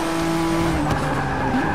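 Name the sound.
Ford GT race car driven at full throttle in video game Forza Motorsport 6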